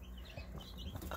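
Newly hatched chicks, including Rhode Island Red and Swedish Flower Hen, give faint, scattered high peeps over a low background hum, all fairly quiet.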